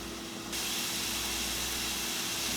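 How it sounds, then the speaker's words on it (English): Chickpeas sizzle in a hot pan while they brown, a steady hiss that jumps louder after a brief moment and then holds constant, heard alone with no talk. "here it's sizzling"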